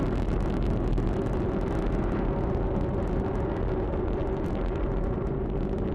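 An Atlas rocket climbing after launch carrying a test spaceplane gives a steady, dense, unbroken roar with deep rumble, distant and even throughout.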